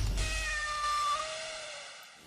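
Cats meowing in a spoof advertisement, several drawn-out, wavering meows close up and fairly loud, overlapping and fading toward the end with no talk.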